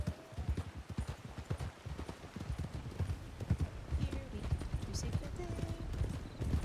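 Horse hooves canter in a video game, a quick rhythmic clip-clop running steadily across the whole stretch at moderate volume, with a faint whinny partway through.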